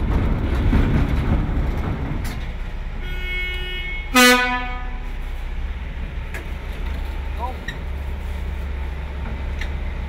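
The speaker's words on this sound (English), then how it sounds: "This train ride is going to take us approximately 20 minutes." Underground construction train riding through a tunnel of the Seymour Capilano filtration project: a continuous low rumble and rattle of the rail cars, with a single brief horn toot partway through and faint voices in the background.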